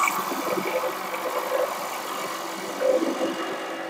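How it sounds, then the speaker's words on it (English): A 1/2 inch Irish grind gouge cuts into a bowl spinning on a wood lathe, giving a continuous whirring, rasping drone with a steady motor hum underneath and slight swells as the cut bites. "Pick up my 1/2 inch Irish grind gouge, and I'm just going to race away a bunch of ribs in this center."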